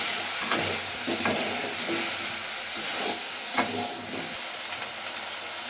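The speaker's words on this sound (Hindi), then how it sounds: "एबे आमे कंचा कदळी को दे देबा एबे आमे कदळी को भाजी नवा" Raw banana pieces frying in hot oil hiss and sizzle steadily, a spoon scraping and stirring through the pan at irregular intervals, close and fairly loud with no talking.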